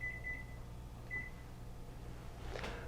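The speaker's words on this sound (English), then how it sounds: "We'll set the timer." Kitchen oven timer being set for a 400-degree oven: two short electronic beeps about a second apart over a low appliance hum, then a brief soft clatter near the end.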